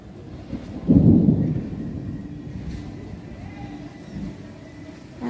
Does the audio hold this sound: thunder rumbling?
yes